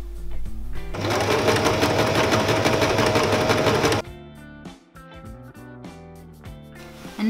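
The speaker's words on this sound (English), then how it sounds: "I'm going to sew the label on the machine." A sewing machine stitching a label onto a crocheted tea cosy runs in a loud, steady whir for a few seconds, then stops, followed by scattered clicks and handling sounds.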